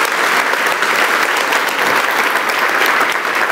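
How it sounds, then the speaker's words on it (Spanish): A church congregation applauds in a loud, steady, dense wash of clapping that holds throughout without pause. "denle un aplauso a ver si nos calentamos un poquito."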